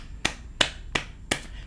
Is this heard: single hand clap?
yes